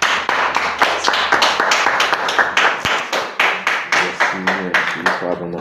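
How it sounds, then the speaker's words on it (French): A church congregation applauds, with rhythmic, loud clapping in a steady beat that stays close and carries on for several seconds, a few voices faintly underneath. "On applaudit pour le Seigneur."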